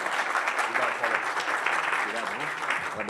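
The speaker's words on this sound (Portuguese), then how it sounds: "Pessoal, uma salva de palmas para o Paulo." An audience applauds Paulo at the close of a Vindi Tomorrow business event, a steady dense clapping for about three seconds with faint voices mixed in.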